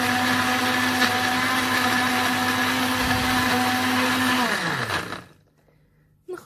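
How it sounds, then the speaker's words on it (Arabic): A kitchen blender whirs loudly and steadily, mixing Oreo milkshake ingredients, then winds down and stops near the end, leaving near silence before a brief final sound. "وهلأ منروح على الخلاط، وهلأ نخلط المزيج يلي حطيناه بالمكنة."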